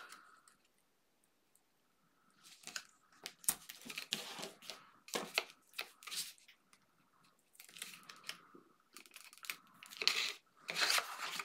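Score tape being torn for a handmade paper folio album, a series of close, crisp ripping and crinkling bursts separated by brief quiet gaps.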